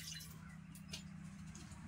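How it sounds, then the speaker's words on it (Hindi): Fresh okra is being washed in a pan of water, giving faint, soft drips and small wet splashes against a quiet indoor background with no talking. "देखिए भिंडी धोने लगी है अभी"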